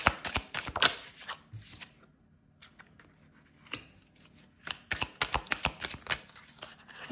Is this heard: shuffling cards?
yes